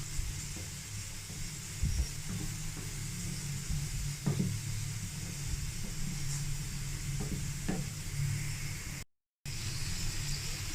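Tea with ginger, cloves and green cardamom simmers in a pot for karak chai, making a continuous close hiss over a low bubbling rumble, with a few faint clinks and a brief dropout near the end.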